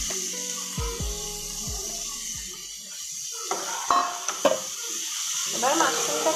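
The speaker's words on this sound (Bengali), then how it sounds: "এবার মাশরুমটাকে একটু ভালো করে ভেজে নেব" Mushrooms fry with spice paste in a pan, a moderate sizzle and stirring with scattered scrapes and taps of a spoon, plus some brief tonal background sounds.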